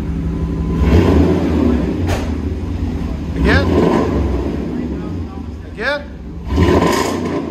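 A 1997 Chevy 1500 pickup with a 5.7L V8 and Flowmaster Super 10 true dual exhaust rumbles at idle, then swells in several revving bursts up close, while people talk over it.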